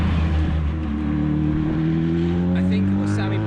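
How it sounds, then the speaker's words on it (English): A WRC rally car on a road stage in Croatia, its engine note rising steadily as it approaches from behind, loud and continuous with a sustained revving drone. "we've got a car just coming behind me now"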